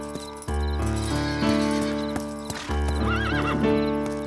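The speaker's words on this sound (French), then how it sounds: "va chercher mon cheval" A horse in an animated film gives a clear whinny against a music bed, with sharp clip-clop hoofbeats striking at intervals, close and prominent.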